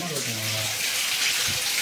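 At a temple, water is poured as an offering. A close, steady rushing splash runs under a voice at the start, with crowd ambience around it.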